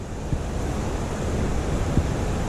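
Bishop Creek rushing hard past a hydro plant near Bishop, California, a steady loud broadband roar of fast water with wind buffeting the microphone.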